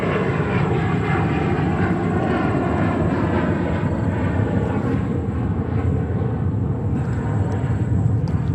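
An Emirates Airbus A380 takes off at JFK airport, a loud, sustained jet engine roar with deep rumble and shifting whine, heard at close range without speech.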